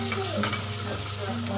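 Spiced masala paste with coriander powder fried and stirred in a pan with almost no oil left, a steady close sizzle with scraping spoon strokes throughout, no voices.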